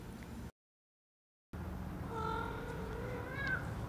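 Cat meowing faintly at a distance in a workshop, one drawn-out mew over low background hum after a brief dropout of silence.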